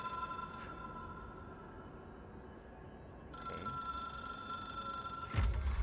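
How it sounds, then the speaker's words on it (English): An old-style telephone bell rings repeatedly inside the video game Control, a steady metallic trill that stops briefly and then resumes, faint against low ambient hum, with a heavy thud near the end. "I can hear the ringing again."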